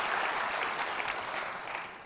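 An audience at a public forum applauds with a dense, steady clatter of many hands that fades slightly toward the end.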